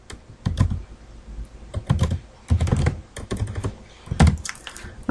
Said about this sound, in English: So I'm just going to type in here Dreamweaver.